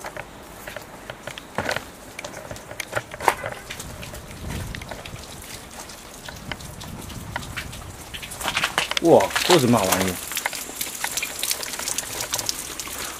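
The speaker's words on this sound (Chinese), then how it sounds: "这个水声貌似是自来水没关" Running tap water left on inside an abandoned, demolition-marked building gives a steady broadband rush and patter throughout, with a person exclaiming in surprise near the end.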